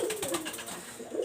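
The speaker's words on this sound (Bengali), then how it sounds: "এখানে যে কবুতরগুলো আছে আমি তা শুধু আপনাদের দেখাচ্ছি।" Teddy golden pigeons coo repeatedly in their coop, a soft, throaty, rolling call close by, with overlapping coos from several birds and no talking.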